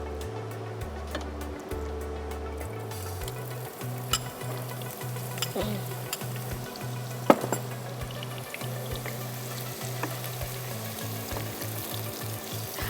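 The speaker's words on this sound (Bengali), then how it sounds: "আমি প্রথমে একটু বেরেস্তা করে ফেলবো।" Onions sizzle steadily in hot oil while being fried down for beresta, a crisp fried-onion garnish for chicken kala bhuna, with a constant close frying hiss and occasional clinks and stirring taps throughout.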